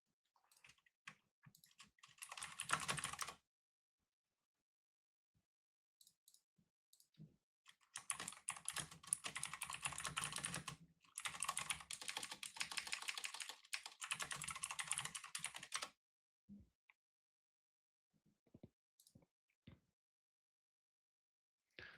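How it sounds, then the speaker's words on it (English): Quiet bursts of rapid keyboard typing, clicking keys in a few separate runs with silent pauses between them, fairly close. "I just came here for the keyboard ASMR."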